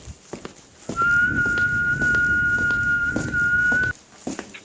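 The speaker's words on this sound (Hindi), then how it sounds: "अरे ये तो गोलू की सीटी की आवाज है।" A single long, steady whistle blown as a warning signal in a Hindi animated children's story, sustained for about three seconds at full loudness, with faint soft footstep-like thumps just before and after.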